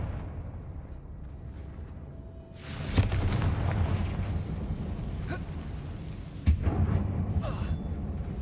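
Magical blasting spell explosions in the Hogwarts Legacy video game, two sharp booming bursts over a steady rumbling game ambience with no talk.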